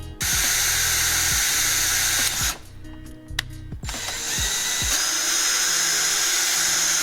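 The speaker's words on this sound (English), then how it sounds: "The first time I've ever drilled carbon fibre." Power drill boring a hole in carbon fibre: a steady high whine from the motor, a short pause and a few ratcheting clicks, then the drill runs on continuously.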